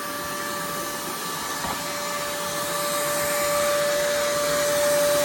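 A vacuum runs steadily while sucking out a yellowjacket wasp nest from under a house soffit, a loud constant whine with a steady tone that swells slightly toward the end.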